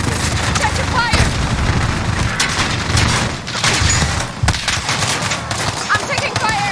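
Rapid bursts of automatic gunfire in a Call of Duty Modern Warfare spec ops co-op mission crackle loudly and continuously, with sharp shots and booms layered over battle noise and occasional voices.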